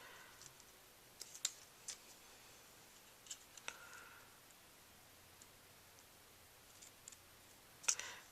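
Paper scissors trim cardstock during a stamping craft session, giving faint, sparse snips and clicks at irregular intervals over quiet room hiss.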